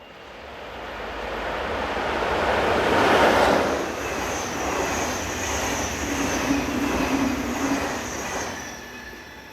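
Swiss locomotive 11130 hauls a train on the Zurich to Basel mainline, a loud, close rolling roar that swells as it passes, with wheel rumble and high, sustained squealing tones over the noise.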